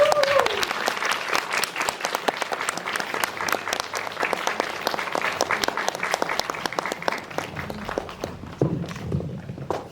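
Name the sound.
audience applause welcoming actors at film Q&A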